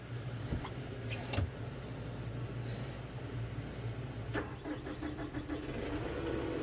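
A tractor engine revs up under steady mid-range engine noise, with a few clicks and knocks early on and a rising, rougher note toward the end, close and continuous.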